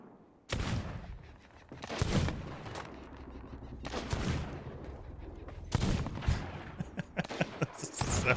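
Gunfire in the pirate video game Sea of Thieves: several loud, sharp shot bursts with rolling echoes, spaced a second or two apart, with a voice faintly underneath.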